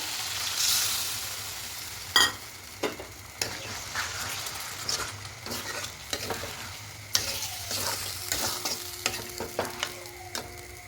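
Water tipped from a yogurt bowl into a pan of sizzling, dried-down potato masala for aloo dum, with a soft hiss, then spoon clinks and scraping against the pan over a steady frying sizzle.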